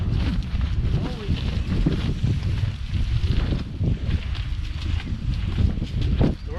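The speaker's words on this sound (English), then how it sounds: "The worst wind gust we've had all day" A strong wind gust roars through a state forest in Indiana at a hammock campsite. It blows steadily and loudly into the microphone for several seconds with no break.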